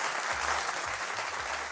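Audience applause in a television studio, a dense, steady patter of clapping from a crowd that stays fairly loud and even throughout, with no voices over it.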